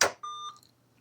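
An alarm tone sounds from the speaker of a UGC-74B military communications terminal: a single clear electronic beep after a brief bump of handling noise, then quick fading into near silence.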